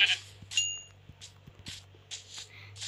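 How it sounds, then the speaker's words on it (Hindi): Goats bleat in a Minecraft survival game, several short nasal cries spaced across a few seconds over a steady low hum, with a faint chime near the start. "एक और बकरी है इधर मारते इसको ये, ये, ये।"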